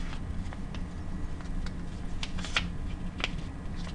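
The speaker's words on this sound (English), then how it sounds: "Valley folding that one." Paper being valley folded for a complex origami paper airplane: continuous close crinkling and rustling with soft creasing taps, steady and fairly loud, no voices.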